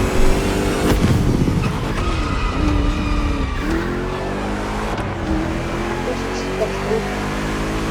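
A race car in the Motorfest driving game roars along with a sustained engine note, shifting pitch and tyre squeals, loud and continuous throughout, with no talking heard.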